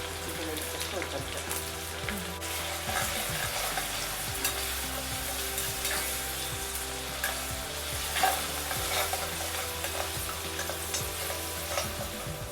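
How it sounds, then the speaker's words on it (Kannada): Ginger garlic paste and green chilies frying and being stirred in hot oil, a steady dense sizzle with scraping stir strokes throughout, fairly loud and close, with no talk. "ರುಬ್ಬಿರೋಂತಹ ಶುಂಠಿ ಬೆಳ್ಳುಳ್ಳಿ ಪೇಸ್ಟು ಹಸಿಮೆಣ್ಸಿನ್ಕಾಯಿದನ್ನು ಹಾಕಿ ಫ್ರೈ ಮಾಡ್ಕೊಳ್ತಾ ಇದ್ದೀವಿ"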